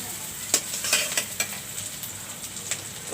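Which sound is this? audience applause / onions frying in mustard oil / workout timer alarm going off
onions frying in mustard oil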